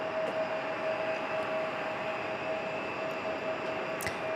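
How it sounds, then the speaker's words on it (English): A CRJ 700 regional jet landing at Phoenix Sky Harbor airport, a steady distant jet roar with a faint tonal whine, even and unbroken for the whole stretch, no talking. "We got a CRJ from Aspen, CRJ 700 landing"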